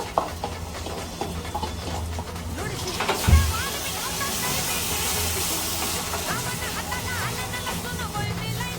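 Marinated paneer tipped into a hot pan with browned onion and tomato sizzles steadily with a brief clatter at the drop, a continuous frying hiss under background music and stirring.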